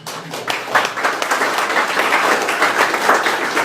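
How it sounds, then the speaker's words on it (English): Lunch guests at a chamber of commerce candidate event break into sustained, close, full applause that holds steady for several seconds. "Let's give both of these candidates another very good round of applause"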